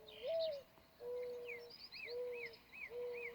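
Birds calling in a park, not an owl: repeated hooting coos in a slow rhythm, each followed by a high short chirp, fairly faint with no talk over them.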